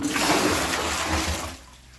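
A bucket of water poured into a fish tank, a loud, close, continuous gush and splash that tapers off toward the end.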